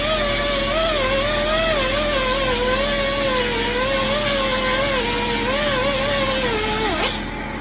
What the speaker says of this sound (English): Get all the initial grinding done on this car with the hard wheel on the grinder